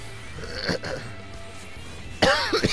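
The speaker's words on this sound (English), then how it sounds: "I don't know why I have such a nasty cough this one." A harsh, nasty cough bursts out twice in quick succession, close and loud, after a stretch of quiet low background hum, with a softer throat-clearing sound earlier on.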